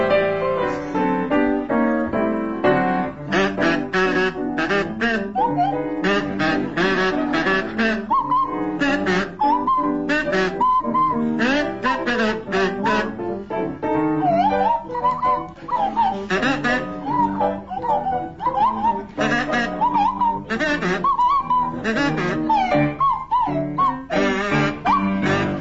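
Kazoo and Swanee whistle played by comedians to imitate Clangers voices, a busy run of buzzing, sliding whistled notes that continues loudly throughout.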